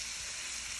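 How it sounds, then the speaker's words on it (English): Curry with garlic sizzling in a hot pot on high heat for Jamaican curry chicken, a steady, close, continuous hiss with no pauses or talk. "You just let the curry burn for about 2 minutes"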